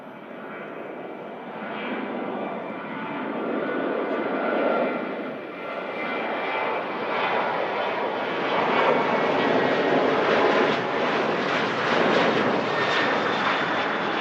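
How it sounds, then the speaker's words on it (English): A Sun Express Boeing 737-800 jet departs Manchester Airport, its engine roar building steadily into a loud, sustained broadband rumble that stays strong throughout with no talk. "Mega departure there. Sun Express 737-800."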